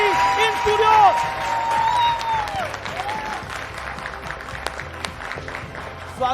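A studio audience claps to welcome actress Rani Mukherjee onto a TV interview set. The clapping is steady and continuous, growing denser toward the end, with a host speaking over it.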